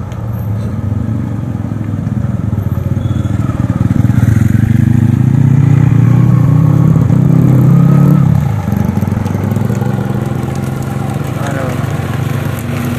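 A motorbike engine revs loudly on a slippery road where trucks are sliding, a sustained rough drone that swells and then eases, with voices mixed in.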